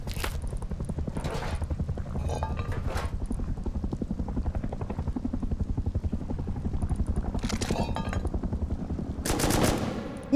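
Sustained rapid gunfire from an M2 rifle in the video game Rust, a steady rattling stream of shots running throughout, loud and continuous with a few louder cracks near the end.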